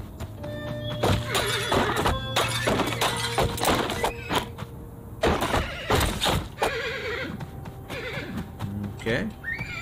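Horse in the Colt Canyon game whinnies repeatedly amid bursts of clopping hooves, thuds and breaking sounds, with someone talking intermittently over the busy action.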